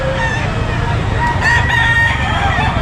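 Many chickens and roosters cluck, squawk and crow together in a dense, loud chorus at a crowded fowl market, continuous and close throughout with faint voices mixed in.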